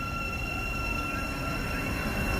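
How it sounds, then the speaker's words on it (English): A train passes at Stevenage on the railway, a loud continuous rumble with steady whining tones from the rolling wagons, close and unbroken throughout, with no talking. "here's my train"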